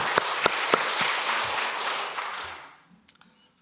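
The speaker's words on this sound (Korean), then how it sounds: "우리 한번 박수 한번 합시다" Church congregation applauding together during a Sunday worship service, a steady wash of many clapping hands that swells and then fades out, with a few scattered claps at the end.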